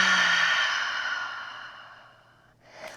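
A deep yoga exhale, one long, breathy rush of air that starts strong and slowly fades over a few seconds, followed by a faint soft breath near the end.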